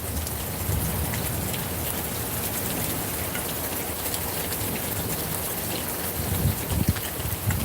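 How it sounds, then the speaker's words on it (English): Heavy rain falls steadily outdoors on a hot day, a dense, continuous hiss of drops on surfaces with a few louder gusts near the end and no voices. "The rain came and just took care of everything."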